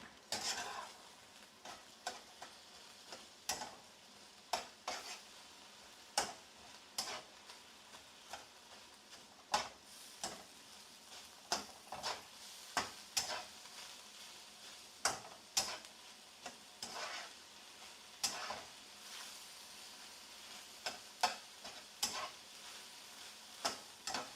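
Garlic frying in a pan is stirred with a utensil, giving a quiet, steady sizzle broken by frequent sharp clicks and scrapes of the spoon against the pan, irregular and close.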